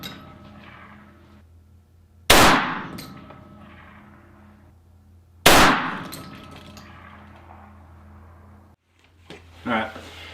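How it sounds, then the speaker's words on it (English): Two sharp, loud rifle shots from a 6mm ARC GAP rifle at a long-range shooting session, spaced about three seconds apart, each followed by a fading ring, with a faint clatter near the end. "So I'm going to get 5 more rounds in here and see what we get."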